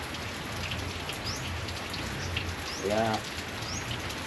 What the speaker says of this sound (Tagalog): ngayon continue siya, umulan.